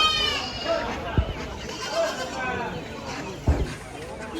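Goats bleat repeatedly at a weekly open-air goat market in Karbi Anglong, India, their calls rising over a steady murmur of crowd chatter and bustle.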